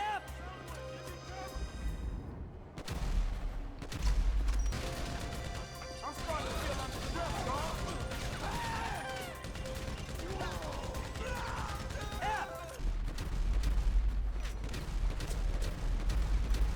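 Enemy soldiers' gunfire in GTA V during a heist battle with army forces, sharp crashing shots and impacts recurring throughout over a busy game mix while people talk.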